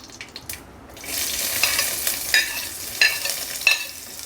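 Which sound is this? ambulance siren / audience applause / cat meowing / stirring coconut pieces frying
stirring coconut pieces frying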